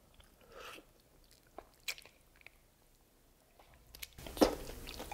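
Close-up bites and chewing of goto rice porridge, beef tripe and crispy fried pork lechon kawali, with scattered soft squishes and a loud crunchy bite near the end.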